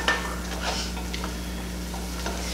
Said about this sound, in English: Bob's going to give that a stir